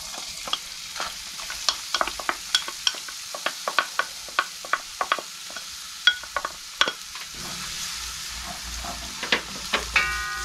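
Ginger sizzles steadily in hot oil in a pan, with a constant frying hiss and frequent sharp crackles and pops that continue for the whole stretch. The sound is fairly close, and no one speaks.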